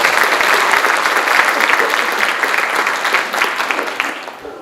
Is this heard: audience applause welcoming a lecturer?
yes